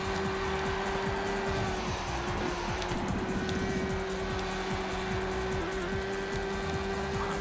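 A race car engine in the PS2 video game Le Mans 24 Hours drones steadily at a constant loud level, a sustained mechanical hum with a brief rattling texture in the middle and no talking.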